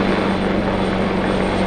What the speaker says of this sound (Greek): ελικόπτερο της αστυνομίας